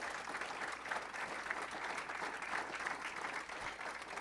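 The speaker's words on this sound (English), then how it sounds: "Let's give them all another round of applause" An audience at a Daemen College distinguished leaders event claps in a steady round of applause, fairly faint and distant, continuing evenly for several seconds without talk.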